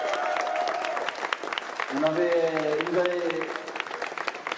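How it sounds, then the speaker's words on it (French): Audience applauding Italian composer Fabio Frizzi, a jury guest at a horror film festival, a steady wash of clapping under a voice speaking French over a hall sound system. "je vous demande d'applaudir Fabio Frizzi"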